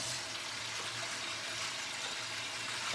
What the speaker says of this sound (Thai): จะล้างให้สะอาดปล่อยน้ำไหลลงไป